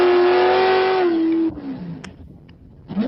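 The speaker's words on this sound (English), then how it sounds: "So I just went from first to third there, getting the tires wet, do a burnout." A stock eliminator drag car does a burnout on wet tires, its engine holding a loud sustained roar that drops off sharply, followed by lower rumbling and a rising rev near the end, with no talk.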